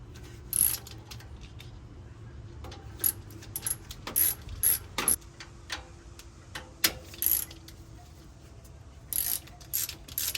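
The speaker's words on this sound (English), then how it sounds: "Got a 7mm Allen for this. So we're just going to unbolt both of these." Ratchet driving a 7mm Allen bit to unbolt the brake caliper bolts on a Ford Expedition, heard as bursts of close, quiet clicking that stop and start over a faint background with no talk.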